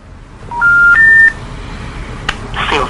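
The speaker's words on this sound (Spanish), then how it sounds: "al intentar hacer la llamada, la reportera descubrió que su celular no tenía saldo suficiente" A mobile phone sends a quick run of rising dialing beeps, clear and close, followed by a short burst of noise and a faint click.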